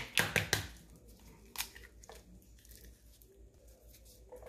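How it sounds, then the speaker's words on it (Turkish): Two eggs are cracked into a mixing bowl for Nutella chocolate chip cookies, with a few quick close cracks and shell taps at the start, then soft faint handling noises. "İlk önce çırpma kabımın içerisine 2 tane yumurtamı kırıyorum"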